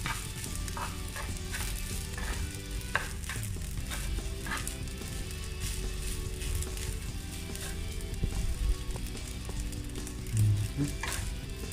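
Food sautéing in a pan for a home-cooked evening meal, a steady close sizzle and crackle with occasional stirring scrapes throughout, no talking.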